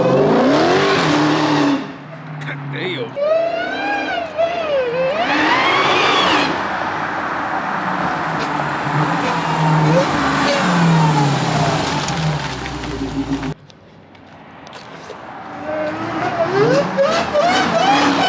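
A Chrysler 300 built up as a Redeye accelerates hard on a test drive, with the engine revving up through repeated rising and falling surges, loud and close, then easing off before building again.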